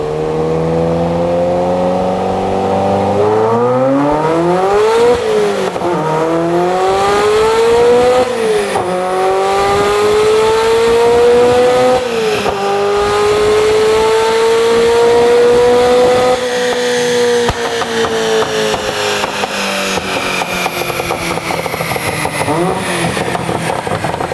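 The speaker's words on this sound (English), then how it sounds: "Let's run this through the gears and kind of see what we can do." A Ferrari F40 engine on a dyno revs hard through the gears. The loud wail rises in pitch, drops back at each shift, then climbs again, and it runs without a break for the whole stretch.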